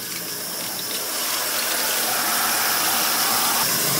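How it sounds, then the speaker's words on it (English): Tap water gushes continuously into the bucket of a portable washing machine, a steady hiss that swells slightly as the bucket fills. "And now we're just going to turn on the water."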